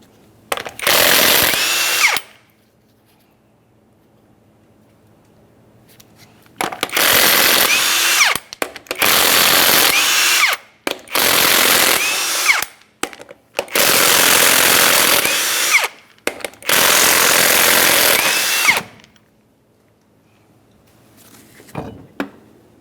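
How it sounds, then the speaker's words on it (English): A power tool spins off the six 21mm lug nuts from a 2004-2008 Ford F-150 wheel in six loud whirring bursts of a few seconds each, separated by quiet gaps, with a short final burst; no talk. "To continue removing the wheel, remove all 6 of your 21mm lug nuts and we can get the wheel off of here."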